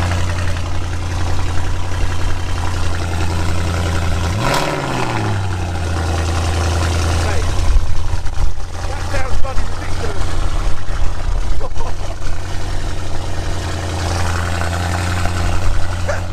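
Audi RS6 Stage 3 with hybrid turbos and 3-inch downpipes idles with a deep, steady rumble, a brief revving swell early on and a fluctuating burble later, recorded close from behind the car.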